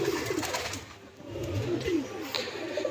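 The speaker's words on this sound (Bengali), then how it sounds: "এই পায়রা দুটো নিচে এসছে" Pigeons cooing as a pair settles down low, with soft, repeated murmuring coos over a steady background hiss and no speech.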